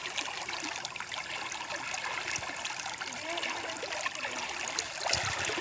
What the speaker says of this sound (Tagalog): Tatawid na tayo sa ilog.